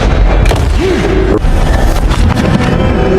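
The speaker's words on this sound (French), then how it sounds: "accueilli par une volée de coups de feu du prêtre" A volley of gunshots booms loudly in an action film scene, with dense overlapping blasts and crashes that fill the whole stretch amid a busy soundtrack.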